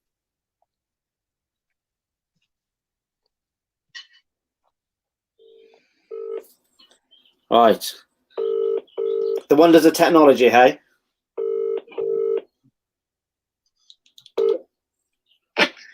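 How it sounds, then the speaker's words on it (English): Telephone keypad dialing tones in a short series of evenly spaced beeps, followed by a brief voice and a couple of later clicks and tones, fairly clear and close during a live call setup. "let me see if I can get him on the phone"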